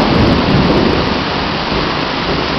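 A heavy rainstorm with thunder after dinner on a humid day, heard as a loud, dense roar of rain with deep rumbling underneath, continuous and close.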